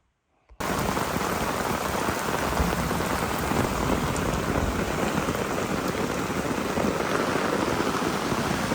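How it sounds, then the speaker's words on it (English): Heavy rain pouring down on a hammock camp in woods at night, starting abruptly after a moment of silence and then holding a loud, dense, unbroken hiss of drops on tarp and leaves. "Guys, this rain is really coming down."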